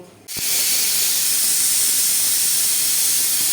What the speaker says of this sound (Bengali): এখানে প্রেশার কুকারে সিটি পড়ে গেছে